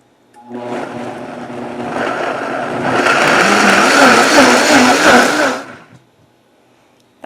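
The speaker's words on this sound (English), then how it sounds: "So I'm gonna do it on high for as long as it takes to look like a liquid." A Vitamix blender runs on high, blending a tamale filling toward a liquid. It spins up to a loud, steady roar, grows stronger midway, then cuts off and leaves near silence.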